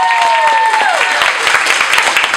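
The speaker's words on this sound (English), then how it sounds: "Can I get a round of applause?" A studio audience at an improv theater dating-game show applauds steadily, dense clapping filling the room, loud and close, with a brief tone fading at the start.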